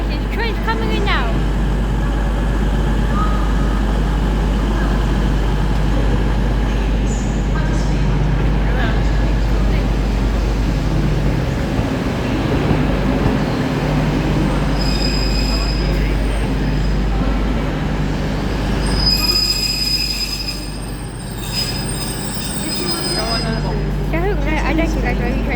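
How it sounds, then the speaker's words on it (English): An LNER train draws in toward Morpeth as a loud, steady rumble and rolling roar that builds and holds for a long stretch, with brief high squeals of wheels or brakes near the end. "Here we go guys, there's trains coming in now."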